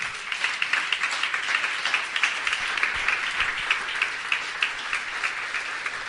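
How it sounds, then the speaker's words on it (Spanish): A church congregation claps in sustained, fairly even applause for several seconds, a steady wash of hand claps at moderate distance with no voices over it. "Fuerte aplauso al Señor en esta noche."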